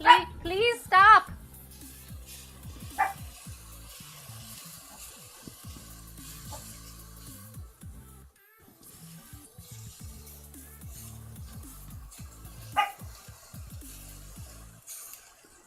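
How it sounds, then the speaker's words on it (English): A dog barks in a kitchen while ramen is being cooked: a loud burst of sharp barks at the start, a single bark around the middle and another near the end, with a voice talking between them. "Why are you barking at me?"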